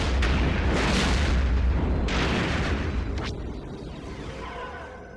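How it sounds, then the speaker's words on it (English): Bombing explosions in Star Wars Rogue Squadron II: Rogue Leader, on the Razor of Kothlis mission: a loud, continuous barrage of deep booms with several big blasts, rumbling on and slowly fading toward the end. "Look at this, man. I just bombed over here."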